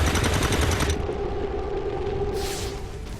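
Burst of automatic gunfire from the XCOM 2 video game, loud and continuous at the start, then giving way to a low game hum and a brief hiss-like rush near the end.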